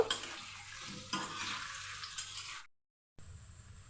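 Potato pieces seasoned with salt and turmeric fry in a pan with a steady close sizzle and occasional stirring scrapes, breaking off abruptly into a brief silence before a thin tone and renewed frying.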